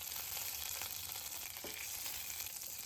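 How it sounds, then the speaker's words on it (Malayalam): Dried red chillies and curry leaves fry in hot coconut oil with mustard seeds, a soft continuous sizzle and faint crackle heard steadily with no talk. "കൂടെ 2 വറ്റൽമുളകും 2 തണ്ട് കറിവേപ്പിലയും കൂടി ചേർത്ത് കൊടുക്കാം"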